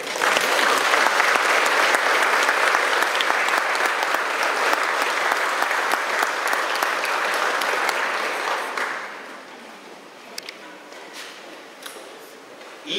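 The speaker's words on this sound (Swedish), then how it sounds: "En varm applåd." Warm audience applause at a concert in Leksand right after a brass wedding march, a dense steady ovation that holds strong for about nine seconds and then drops away to a quiet room with a few scattered claps.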